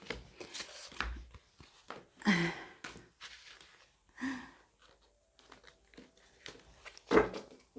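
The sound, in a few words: shuffling tarot cards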